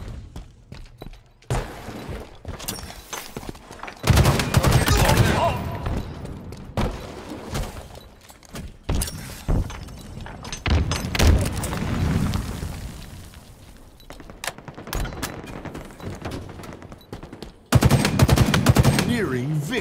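Rapid bursts of automatic gunfire and booming explosions in Halo Infinite ranked Oddball team arena play on Streets, loud and repeated in uneven clusters, with an in-game announcer voice calling out between bursts.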